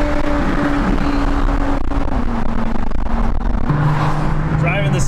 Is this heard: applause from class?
no